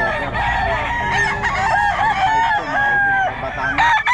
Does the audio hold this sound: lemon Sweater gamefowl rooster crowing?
yes